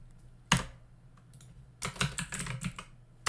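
Quick bursts of computer keyboard typing while writing code for a Discord bot, close and crisp, a lone keystroke followed by a pause and then a rapid flurry of keys, no voices.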